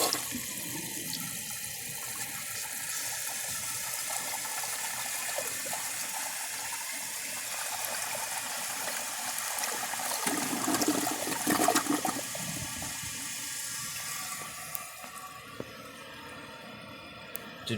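A 1981 Briggs Conserver toilet flushes with a loud, sustained rush and gurgle of water, then drains down and quiets as the tank refills with a softer hiss near the end.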